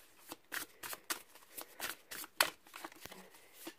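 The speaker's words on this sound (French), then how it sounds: "vais tirer une seule carte avant de... de toute façon, elles sont mélangées" Cards of a tarot deck being shuffled and drawn, a run of soft riffling flicks and slaps close up, with one sharper snap midway and no talking.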